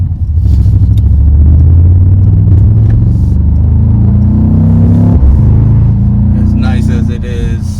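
A 2025 Mercedes-AMG GT63 S E Performance 4-door coupe accelerates hard with a loud, deep engine rumble that rises in pitch through the gears. Someone talks over the engine near the end.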